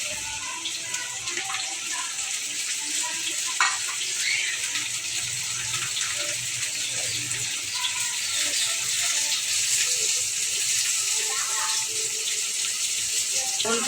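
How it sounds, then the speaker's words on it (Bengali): Cauliflower and other vegetables fry in spice masala with a steady, dense hiss and sizzle, close and continuous, with a few faint clinks and a voice speaking softly underneath. "ফুলকপি আমি সবজিটা কষাইতে দিচ্ছি"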